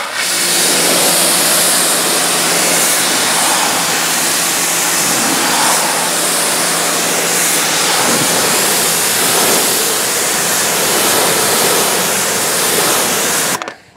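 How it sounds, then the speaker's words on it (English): High-pressure water blasting from a power washer lance during mobile car detailing, a loud continuous hissing roar that stays steady for the whole stretch, with the machine itself barely audible underneath. "Most of the noise you're going to hear is from the high pressure water coming out the lance."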